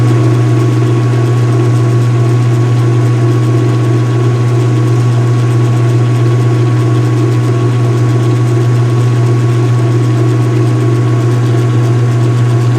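A loud, steady low hum and drone of a running washing machine with its cover open, constant and unbroken with a resonant rumble like a big-block V8 engine, no voices.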